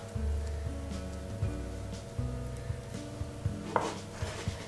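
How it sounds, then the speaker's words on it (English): Kitchen knife slicing rolled basil leaves into fine chiffonade shreds, a run of soft close taps on a cutting board at an uneven rhythm, with no talk. "I like to chiffonade my basil"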